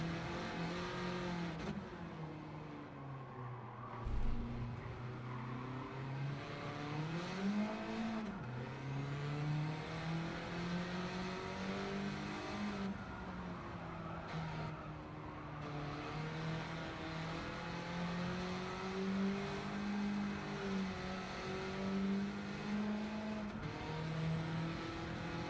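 Race car engine in a racing video game accelerating and revving through corners, a continuous loud whine whose pitch climbs and drops repeatedly with gear changes, steady throughout with no talking.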